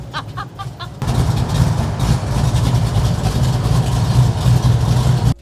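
A 1968 Camaro engine cold-starts after a brief crank and settles into a loud, steady, rumbling idle close by, with no talking over it.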